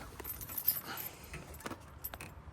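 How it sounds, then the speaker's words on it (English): Faint metallic jingles come in scattered bursts as a bunch of keys is picked up and handled beside a 1995 Toyota 4Runner. "Let me grab my keys here."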